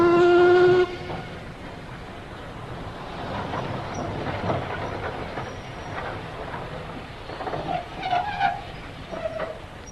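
A passenger train rumbles and clatters along the rails at a steady roar, opening with a short loud horn blast and ending with faint whistle-like tones.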